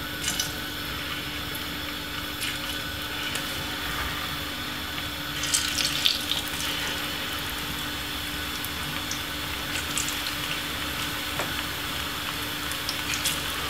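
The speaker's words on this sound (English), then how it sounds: "Let it hot for a little bit, and then you put in your plantain." Plantain pieces frying in hot oil in a pan give a steady, continuous sizzle and crackle at moderate loudness, with a slightly busier spell partway through and no talk.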